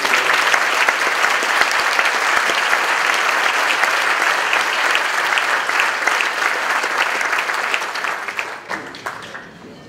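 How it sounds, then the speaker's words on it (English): A synagogue audience applauds at the installation of a rabbi, with dense, sustained clapping filling the room for several seconds before it fades out near the end. "And you can applaud for him."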